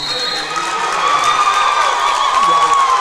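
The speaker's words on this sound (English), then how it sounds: "The crowd is on their feet" A packed high school basketball crowd cheers loudly and steadily, with shouts, whoops and clapping rising together in a busy gym during a playoff game between Mangum and Minco, and some voices audible within the roar.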